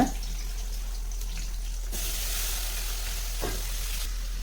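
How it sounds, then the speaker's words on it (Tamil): Bitter gourd sizzling steadily in hot oil in a pan, a constant crackling hiss that grows louder midway, with a few soft clinks and a low hum underneath. "இது எண்ணெய் சூடாயிடுச்சு இதில் வந்து பிழிஞ்சிட்டு நான் இதில் போட போகிறேன்"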